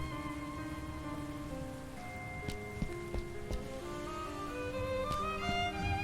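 Steady rain falls over Paris in the adventure game Gibbous, a soft continuous patter underneath layered sustained musical tones, with a few brighter drip-like ticks.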